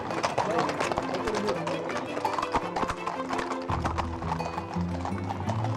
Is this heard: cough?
no